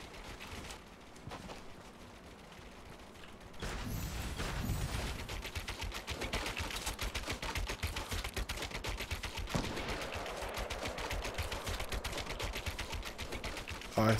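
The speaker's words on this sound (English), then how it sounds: "Where are these shots coming from?" Rapid gunfire from Fortnite Battle Royale rattles continuously as dense, loud bursts, preceded by a quieter stretch, with no clear pauses once the shooting begins.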